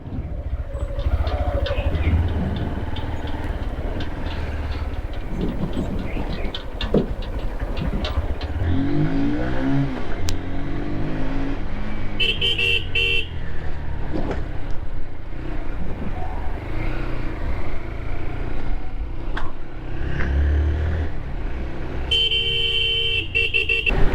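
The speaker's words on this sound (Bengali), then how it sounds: "এই দুটো বাইক আগে বেরিয়ে গেল" Motorcycles setting off on a group road ride from Kolkata, engine drone and revving close by under steady road and traffic noise, with a few horn toots in the background.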